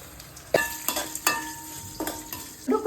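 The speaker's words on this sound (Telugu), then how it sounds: "ఇప్పుడు జీడిపప్పు వేసుకుందాము, పచ్చిమిరపకాయలు, ఎండుమిర్చి వేసుకుందాం." Cashews with green and dried red chillies sizzle in a pan, a close frying hiss punctuated by several distinct utensil scrapes and clinks against the metal.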